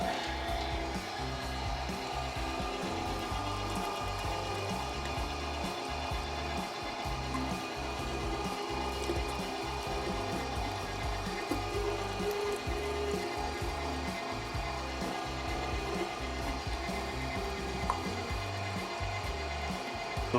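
An electric meat grinder runs continuously as it grinds very cold pork for blueberry maple sausage, giving off a steady, close mechanical churning drone with a low rumbling texture and no talking.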